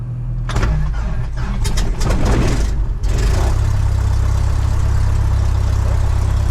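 A Cessna 172 aircraft engine cranks for a couple of seconds with uneven starter chugging, then catches and settles into a loud, steady running rumble close by.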